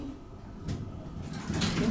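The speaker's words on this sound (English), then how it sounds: "Doors open." Schindler traction elevator doors at the JW Marriott sliding open in a brief soft whoosh over a low ambient hum.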